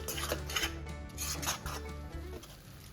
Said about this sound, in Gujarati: હવે જ્યાં સુધી એનું જે ઘી છે એ રિલીઝ ન થાય ત્યાં સુધી આપણે એને હલાવતા રહેશું